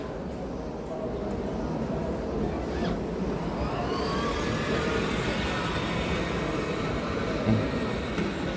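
A Lamborghini drives past outside shops, a broad engine and tyre roar that builds around the third second and holds loud through the rest, fairly close and dominating the scene.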